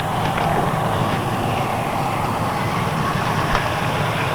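A stopped vehicle's engine idles steadily at a roadside police check, a constant close rumble with broadband noise and no speech.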